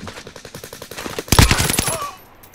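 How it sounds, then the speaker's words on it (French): Rapid automatic gunfire in an online multiplayer shooter, a quick burst of close, loud shots that swells into a denser volley before trailing off. "Il me tire dessus."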